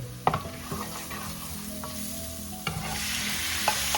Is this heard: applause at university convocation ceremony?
no